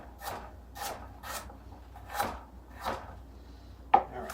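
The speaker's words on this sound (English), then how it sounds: "let me give these a little bit more of a chop" Knife chopping food on a board in a home kitchen, six or seven spaced, crisp thuds about half a second to a second apart, close and clear, ending on a sharper knock.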